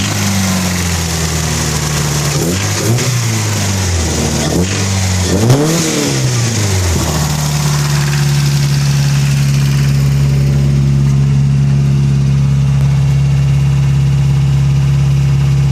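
Engine of a bagged 1994 Toyota pickup revving in a few quick blips, then settling into a steady, deep idle rumble, loud and close with no voices.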